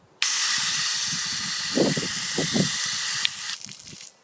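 A garden hose sprays water in a steady loud hiss that starts abruptly, runs for about three seconds and then drops away, with faint low murmuring underneath.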